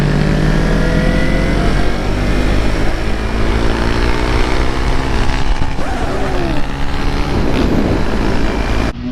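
MiniGP bikes out riding on track, their small engines buzzing loudly and close, with pitch climbing and falling as several machines rev, accelerate and pass one after another.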